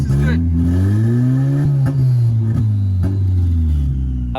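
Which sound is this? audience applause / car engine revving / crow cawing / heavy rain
car engine revving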